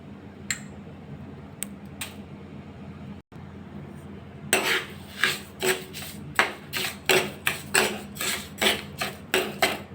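Mango paste and sugar are stirred in a pan, a spoon scraping and knocking in a steady repeated rhythm up close after a few quieter taps.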